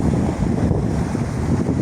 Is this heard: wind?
yes